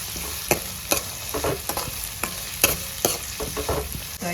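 Chilies frying in a pan are stirred with a utensil, steady close sizzling broken by a regular series of scraping stirring strokes, no voices.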